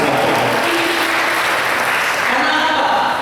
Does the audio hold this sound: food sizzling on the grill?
no